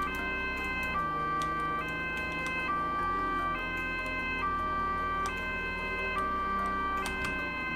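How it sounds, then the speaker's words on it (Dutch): An emergency vehicle siren in the video game Roblox wails in a steady two-tone pattern, alternating pitch about once a second, loud and continuous with faint clicking ticks behind it. "Even kijken hoe doet de sirene weer en zo."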